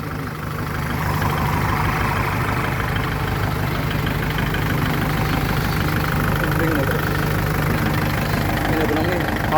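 A Kubota tractor engine fitted with a D-MAX turbo runs steadily and loudly, its revs held high with a constant rumbling drone throughout, while people talk over it.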